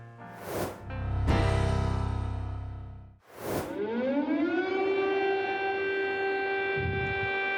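An air raid siren in Ukraine wails, rising in pitch and holding a long steady tone after a couple of brief bursts, loud and alone with no talk.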